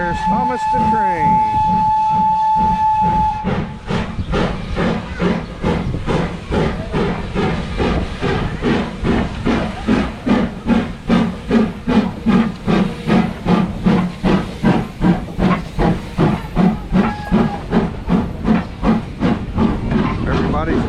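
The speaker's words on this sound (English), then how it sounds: "Everybody's waving. And Thomas is pulling in." Thomas the Tank Engine steam locomotive arriving at Strasburg, Pennsylvania, opens with a brief whistle and steam hiss, then rhythmic exhaust chuffs grow steadily louder and more distinct close by as it pulls in.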